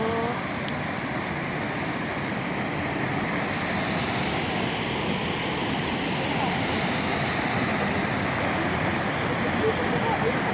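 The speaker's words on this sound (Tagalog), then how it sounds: "ito ang agos ng tubig" A river flows in a steady, continuous rush beside a riverbank on a morning walk, loud and unbroken for the whole stretch with no clear voices over it.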